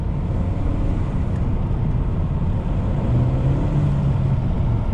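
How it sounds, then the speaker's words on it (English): A new Honda Civic's turbocharged engine drones steadily from inside the cabin, a loud, continuous low rumble with a faint rising whine near the end and no one talking. "turbo sound on this is really nice"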